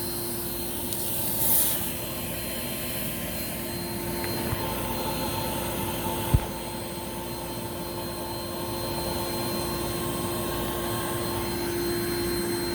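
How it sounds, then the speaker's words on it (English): A Rainbow SRX vacuum cleaner runs continuously during a hose airflow and suction test, giving a steady, loud jet-like whine with a strong tonal hum, holding constant throughout with a brief click partway. "let's do some hose flow testing as well as a suction test."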